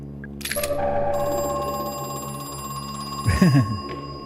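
A telephone rings inside the Crow Country video game, its bell-like tones sustained over a steady tonal game backdrop, with a brief louder burst of voice near the end.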